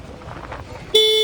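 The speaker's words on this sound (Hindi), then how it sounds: "Horn is really impressive for a standard." An Ola S1 Pro electric scooter rides over an ordinary road with soft wind and road noise, then its horn sounds near the end as a sudden, clear, steady electronic beep.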